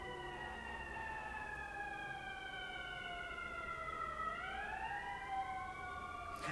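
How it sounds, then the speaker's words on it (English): Faint emergency sirens wailing in the distance near a launch pad area, several overlapping steady tones that sag then rise in pitch, quiet beneath a low background rumble with no talking. "am I the only one hearing these sirens?"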